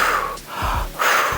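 A woman demonstrates the controlled breathing she used to push during childbirth: a few deep, breathy inhalations and exhalations, close and fairly loud, with brief pauses between breaths and no speech.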